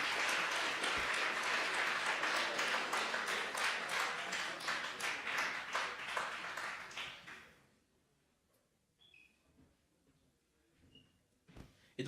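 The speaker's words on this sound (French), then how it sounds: "Voilà, on va les applaudir bien fort." A concert crowd claps loudly for a band walking on stage, with dense, continuous applause for about seven seconds that suddenly drops to near quiet, leaving a few faint knocks.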